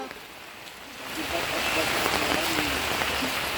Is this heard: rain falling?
yes